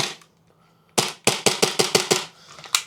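An airsoft Glock pistol with blowback fires a quick string of about eight snappy cracks, close and loud, after a short quiet pause and a single earlier shot.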